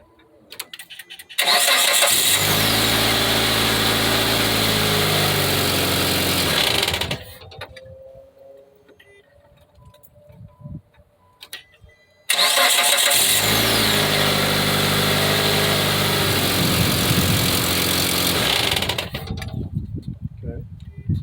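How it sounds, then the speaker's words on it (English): A car engine starts in winter on a new battery, cranking briefly and then catching into a loud steady idle that runs for about five seconds. After a quieter pause with faint sounds, the engine starts and idles loudly again. "So right now we have a new battery. We're gonna start up the vehicle, and you're gonna see the difference."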